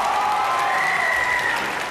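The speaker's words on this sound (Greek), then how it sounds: "Θέλουμε πιο δυνατό χειροκρότημα, μεγαλύτερο" Studio audience applause on a Greek television talk show, a dense steady burst of clapping that fills the whole moment and tapers slightly at the end.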